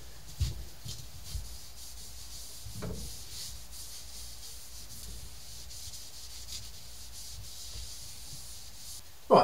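A narrowboat stove being wiped down by hand, a soft continuous rubbing and scrubbing close up, with a few light knocks scattered through and a louder clunk at the very end.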